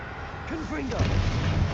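A Confringo spell blast in Hogwarts Legacy gives a low, heavy thud and rumble amid combat noise, while a voice speaks just before.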